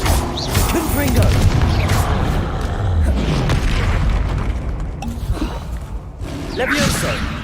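Fire and force spell blasts (Confringo, Depulso) in the game Hogwarts Legacy boom and thud repeatedly in quick succession through a dense, continuous battle, with a voice shouting over the impacts.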